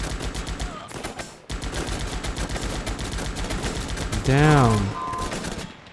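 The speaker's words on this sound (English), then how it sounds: "Their grunts are shooting a lot faster than mine, I think." Grunts in the video game Guns Up! fire rapid, rhythmic bursts of gunfire that rattle on almost continuously, with a voice briefly speaking over the shooting.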